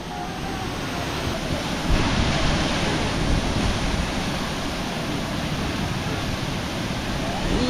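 Steady roar of rushing water at Tinuy-an Falls during a rafting ride, a loud broadband wash close by, continuous throughout with wind buffeting.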